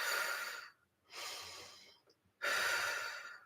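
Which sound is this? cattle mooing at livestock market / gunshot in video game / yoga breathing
yoga breathing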